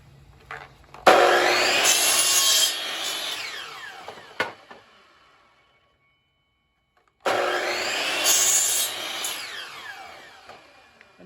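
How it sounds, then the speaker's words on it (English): A power saw set to a 20-degree angle cuts wooden greenhouse bench legs, two loud whining cuts of a few seconds each with a pause between them and a sharp knock in the quiet gap. "So I set the saw to a 20-degree angle, and I already did a test cut"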